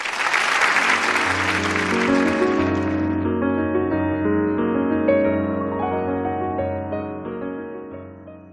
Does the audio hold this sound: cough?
no